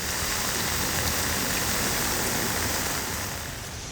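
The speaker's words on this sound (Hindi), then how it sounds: "रुक रुक कर हो रही तेज बारिश से दिल्ली पानी पानी हो गई है।" Heavy rain pours down over Delhi, a dense, continuous roaring hiss that stays loud throughout and eases slightly at the very end, with no voices.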